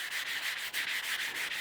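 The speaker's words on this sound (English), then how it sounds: "I'm gonna use a sanding sponge, and we're gonna real quickly hit the surface of this just to take off some of the fine hair" A sanding sponge rubs steadily over the wooden handle of an axe or hammer in quick, rhythmic back-and-forth strokes, a close, soft scratchy hiss with no voices.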